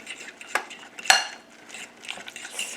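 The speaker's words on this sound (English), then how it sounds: "my fork and stir it up. You see how nice and creamy it's getting?" A fork stirs creamy deviled egg filling in a bowl, making a few sharp clinks against the dish among soft scraping and mixing sounds, close and alone.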